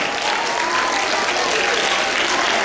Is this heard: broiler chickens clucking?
no